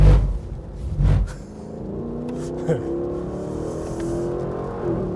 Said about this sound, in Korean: 이 대배기량 엔진 그리고 고회전 지향 엔진이 보여주는 그 매력 잘 표현해내고 있습니다